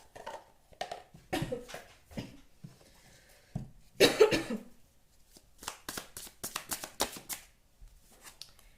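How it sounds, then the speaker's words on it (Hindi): A tarot deck is shuffled up close in several crisp, rapid riffling bursts separated by quiet pauses. A cough and some handling noises occur between the shuffles. "मैं कुछ और डेक से भी कुछ कार्ड्स निकालना चाहती हूँ for the double confirmation here"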